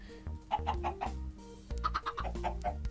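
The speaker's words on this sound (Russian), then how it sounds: "Сейчас попробуем заспавнить цыплят и посмотрим, как он их будет атаковать." Chickens clucking in the Minecraft video game: a run of short, close, rhythmic clucks in two quick bursts, loud and clear with no talk over them.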